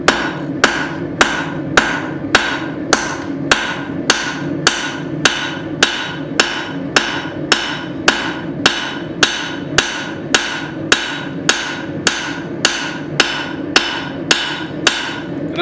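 A hammer strikes hot steel on an anvil while tapering a forged tomahawk, with loud, close, evenly spaced ringing blows repeating steadily about every half second.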